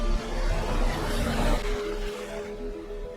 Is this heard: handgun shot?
no